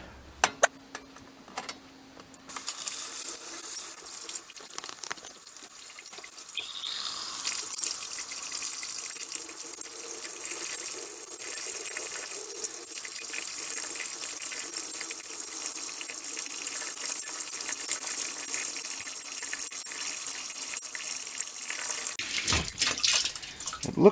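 Steady rushing water flows through a hose on a Biselong BIS-09 9kW tankless water heater test rig, starting after a few clicks and running loud and continuous for about twenty seconds before cutting off abruptly, with no talking.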